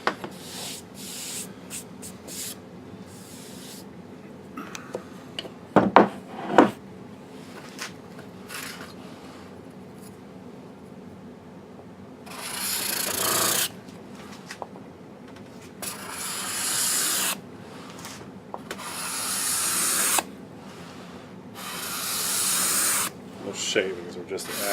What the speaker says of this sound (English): the card scraper will actually bring that figure out more once the finish is applied